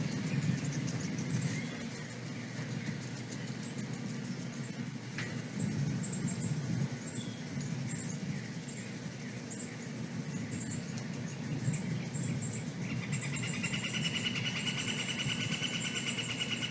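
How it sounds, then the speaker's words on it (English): A juvenile pileated woodpecker calls repeatedly in short, high notes at a moderate distance, over a constant outdoor background hum with insects. "That is a juvenile pileated woodpecker."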